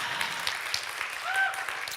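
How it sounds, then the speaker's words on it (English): A conference audience at GovTech Leaders 2023 gives a round of applause, a soft, diffuse clapping wash heard from a distance, fairly faint and steady throughout. "let's give a round of applause just for yourself for spending such a lovely day"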